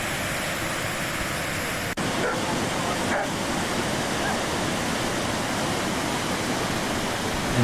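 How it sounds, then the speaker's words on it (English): Woolshed Falls running full after recent rain, a steady broadband roar of falling water heard from nearby, constant and unbroken, with a brief knock partway through. "you can see there's plenty of water coming over the falls"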